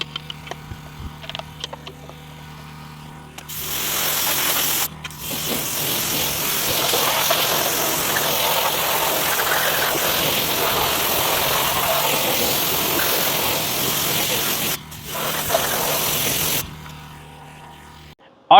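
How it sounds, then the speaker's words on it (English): Pressure washer rinsing a car wheel: a loud, steady hissing water spray starts after a few quiet seconds, breaks briefly, runs for about ten seconds, pauses, resumes shortly, then stops. "And then I will pressure wash the wheel off completely."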